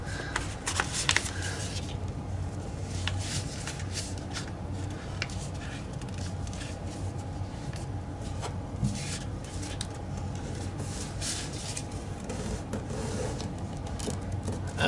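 Paper is creased and folded into a Bug Plane paper airplane, giving a continuous dry rustling and rubbing with a few sharper crinkles at the start. It is close and steady, and there is no speech.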